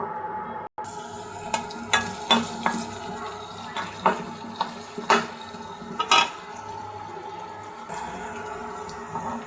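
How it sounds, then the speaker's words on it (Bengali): Onions and green chilies fry in oil in a pan for an okra bhaji, giving a constant sizzle broken by repeated spatula scrapes and clinks against the pan. "এই পেঁয়াজ আর মরিচটা এখন ব্রাউন ব্রাউন করে ভেজে নেব।"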